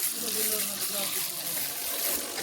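Water sprays and gushes steadily from a mud pump's pipe at an excavation construction site, a continuous broad hissing wash close by with no clear talk.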